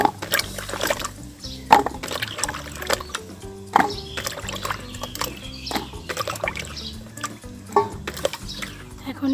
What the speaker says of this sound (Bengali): সবগুলো আম ভালো করে ধুয়ে নিব,